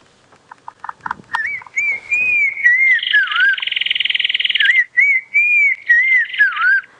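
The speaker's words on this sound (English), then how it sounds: "Black Crown Tchagra, there we go." Clear, melodious whistles of a black-crowned tchagra rise and fall in looping phrases, with a rapid trilled section midway, fairly close and loud against a quiet background, during a sunrise safari drive.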